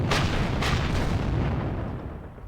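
Heavy mortar fire in the Panzer Campaigns Bulge '44 wargame: two loud, close booms land in quick succession, then settle into a broad rumbling wash that slowly fades.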